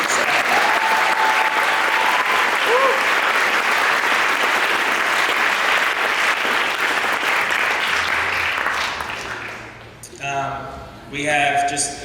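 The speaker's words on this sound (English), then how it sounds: "Round of applause for the coaching staff." Sustained applause from an audience at a school winter and spring sports awards ceremony, steady clapping for about ten seconds before fading, followed by a brief spoken voice.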